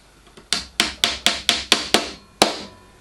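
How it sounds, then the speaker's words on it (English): Hammer striking a transfer punch to mark rails for a workshop sled: eight sharp metallic taps, seven in a quick even rhythm and one after a short pause, close and ringing briefly. "I used a transfer punch"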